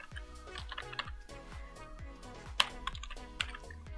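Quick typing on a computer keyboard while writing Python code, a close run of crisp clicks and key taps in uneven bursts over four seconds, with a few sharper keystrokes standing out and no talking.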